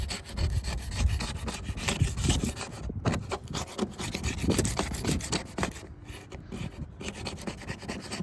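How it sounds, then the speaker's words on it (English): Knife blade scrapes old green paint off a jon boat in continuous rough, rasping strokes, close and fairly loud with small variations in pressure. "Literally just scrape as you go. May have to angle your knife."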